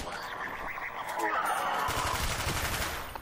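Bursts of rapid HK21 machine gun fire in a zombies video game, continuous rattling shots mixed with game sound effects and a background voice.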